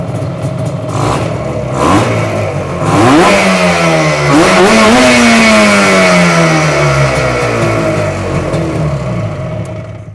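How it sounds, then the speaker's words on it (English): A motorcycle engine fires after a kick start and runs loudly up close, revving up and settling back into a steady, slightly clattery idle. "It usually starts first kick when the engine is warm."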